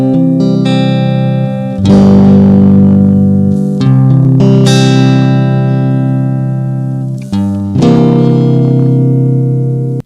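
Guitar and bass tracks play together in Adobe Audition on a simple guitar cover, with sustained, loud chords ringing over a bass line and changing several times, with no talk.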